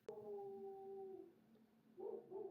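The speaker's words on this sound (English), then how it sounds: "That's my neighbor's dog." A neighbor's dog howls nearby, one long sustained wavering howl followed by a pause and then short yelping cries, moderately loud with no talking.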